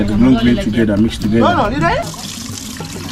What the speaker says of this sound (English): So this is some amazing skills to wash the rice, making sure that all the white is gone